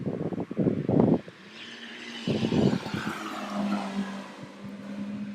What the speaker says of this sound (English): A sports car. It's like it's got 2 seats, powerful motor.